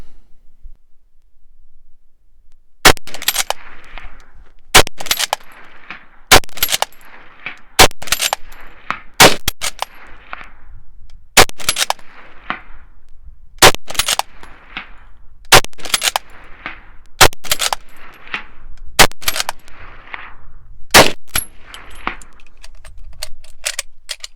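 Rapid-fire shooting of a historic SMLE bolt-action rifle at a 300 yard target, about a dozen sharp, loud cracks spaced a second or two apart with bolt clatter between shots, close to the listener and without talk.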